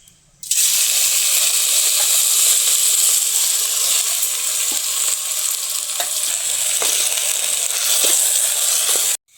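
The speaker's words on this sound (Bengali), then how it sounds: "এই ঘিটার মধ্যেই আমি চালগুলো আমি দিয়ে দেবো, একটু ভেজে দেবো।" Washed rice frying in ghee gives a loud, steady sizzle for several seconds. Faint stirring scrapes and clicks sound over it, and no voices are heard.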